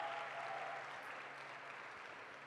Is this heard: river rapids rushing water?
no